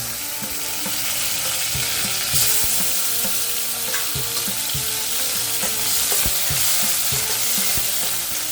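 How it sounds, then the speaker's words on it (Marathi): Tomato roasting in a hot tempering of cumin and mustard seeds with curry leaves, a loud steady sizzle broken by repeated sharp scrapes and taps of a stirring spoon against the pan, no voices. "त्यामध्येच आपण टमाटा भाजून घ्यायचा"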